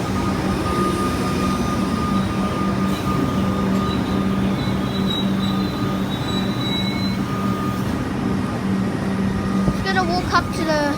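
A refurbished Comeng train at Caulfield station in Melbourne gives a steady rumble as it runs along the platform, with faint wheel squeal and brief higher tones near the end.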